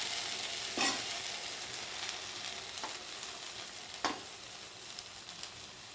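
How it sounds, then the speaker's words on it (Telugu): Ghee being stirred into cooked rice, with a few soft scraping and clinking strokes against the pot over a steady faint background hiss, close and moderately loud, no talk. "ఇలా నెయ్యి వేసుకుని అన్నం కలుపుకోవాలి"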